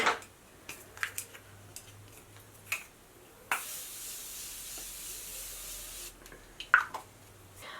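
A sustained hissing spray of Morphe setting spray lasting a few seconds, preceded and followed by light clicks and taps, close by in a quiet room.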